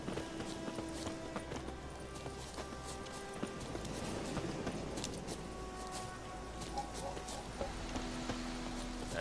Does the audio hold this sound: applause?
no